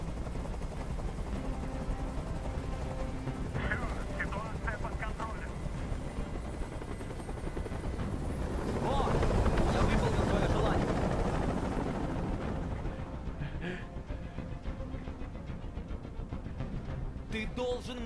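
Helicopter hovering in Detroit: Become Human, a steady rotor drone that holds throughout and swells louder midway before easing back, with faint voices beneath.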